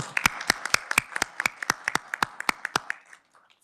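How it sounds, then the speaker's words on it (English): A small group claps at a state Senate utilities committee hearing, sharp distinct hand claps in a quick uneven rhythm, close and fairly loud, thinning out and stopping near the end. "let's give them a round of applause"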